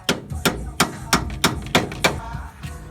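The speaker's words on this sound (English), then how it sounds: "Tap the back with the hammer, and that's going to walk your bolt right on through." A hammer strikes the back of a bolt to drive it out of a Toyota Tundra front strut during a 3-inch spacer lift, about eight sharp, evenly spaced metallic taps close to the microphone.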